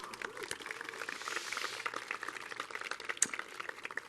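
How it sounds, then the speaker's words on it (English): An audience at a Los Angeles Fire Department foundation valor awards ceremony applauds with dense, even clapping that swells slightly in the middle, then carries on steadily, heard from within the room. "Another round of applause for Mike Amar."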